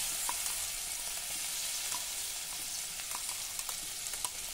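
Garlic and green chili kharda fries in hot oil in a kadhai, giving a steady, fairly quiet sizzle with faint crackles and light stirring taps throughout.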